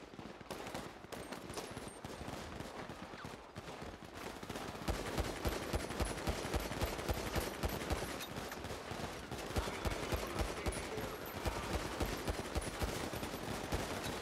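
Sustained machine gun fire in GTA, a dense, continuous stream of rapid shots that grows louder partway through and keeps hammering steadily without pause.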